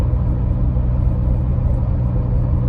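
A 1990s Volvo 940 Turbo on the road, its exhaust and engine a steady low rumble throughout, loud and close with no talking.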